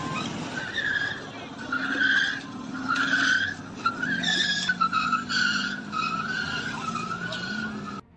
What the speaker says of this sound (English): The car behind, unable to react in time, collided with the rear of the stationary vehicle.